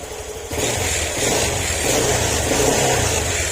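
A motorcycle engine idles steadily up close after a top overhaul, a continuous mechanical hum and rattle with no voices.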